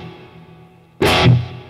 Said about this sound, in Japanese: この弾いた後のこのリバーブ感もね、ちょっと聞いてみてほしいんですよ